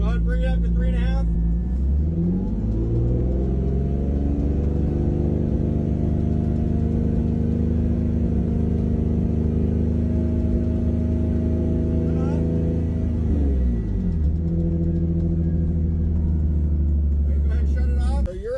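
A car with a catback exhaust is held at about 3,500 RPM during a roadside noise check, its engine climbing quickly to a loud, steady droning rev, holding, then dropping back to idle near the end.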